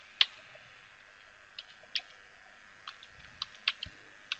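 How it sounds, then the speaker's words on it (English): A command typed on a computer keyboard: sparse, close, crisp key clicks arriving in irregular bursts with short pauses between them, in a quiet room with no talking. "install the package by typing zipper"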